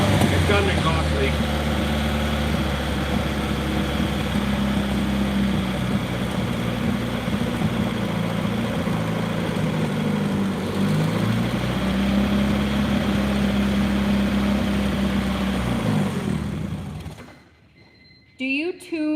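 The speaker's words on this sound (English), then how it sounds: "It's got an exhaust leak." A Honda D16 car engine idles with an exhaust leak, a loud steady low rumble holding for most of the stretch before cutting off sharply near the end, with people talking in places.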